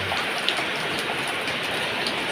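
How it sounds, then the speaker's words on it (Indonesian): Heavy rain driven by strong wind makes a steady, dense hiss of downpour, loud and continuous throughout with no voices. "Semakin deras teman-teman."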